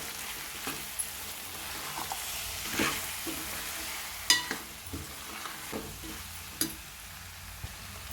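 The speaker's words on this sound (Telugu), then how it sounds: "పసుపు కొంచెం కారం టూ స్పూన్స్ వేసి బాగా కలపాలండి" Potato and pea curry being stirred in a pan with turmeric and chili powder: a soft, steady frying hiss with repeated small scrapes and taps of the spoon, fairly quiet and close.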